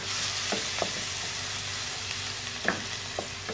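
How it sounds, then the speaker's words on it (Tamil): Chopped garlic fries in hot oil for sambal, a soft steady sizzle with a few light scraping stirs of a utensil in the pan, heard close and quiet. "அந்த பூண்டுலாம் நம்ம வெட்டி வச்சு சாப் பண்ண பூண்டுலாம் போட்டுருங்க"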